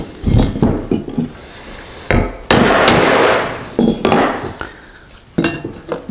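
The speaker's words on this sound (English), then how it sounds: "Let's use a hammer and see what happens." A hammer strikes a polyester fibreglass car body panel: several sharp, hard knocks, some in quick clusters and others spaced apart, each with a short, slightly ringing decay, close and loud with no voices.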